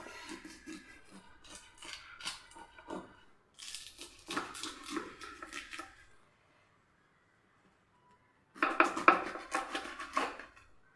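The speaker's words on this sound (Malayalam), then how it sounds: "ഇനി നമുക്കിത് കട്ട് ചെയ്ത് എടുക്കാം." A knife cuts through young jackfruit with oiled skin, making scattered scraping and crunching strokes in three bursts with quiet pauses between. The cuts are close and fairly soft.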